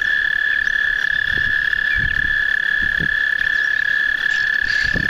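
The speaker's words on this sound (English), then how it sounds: "Hear all the frogs going crazy." Frogs croak in scattered low pulses near shallow water, moderately close, over a constant high insect-like trill that runs the whole time.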